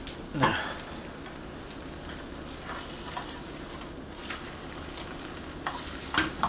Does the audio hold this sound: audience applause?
no